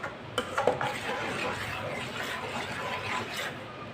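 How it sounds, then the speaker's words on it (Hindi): A spoon scraping and clinking around a pot of apple jam as it cooks over medium heat, irregular stirring knocks over a low bubbling simmer. "अब इसे 4-5 मिनट के लिए ऐसे ही मिक्स करते हुए पका लेंगे।"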